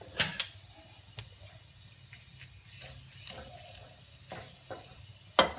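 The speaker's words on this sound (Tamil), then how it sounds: "ஸோ இதை நம்ம பெருங்காயத்தை இப்படி வறுத்துக்கணும், அதில் பொரிச்சுக்கணும்" Asafoetida frying in hot oil in a kadai: a low, steady sizzle under scattered sharp clicks and a few louder pops, with a brief crackle near the end, no voices.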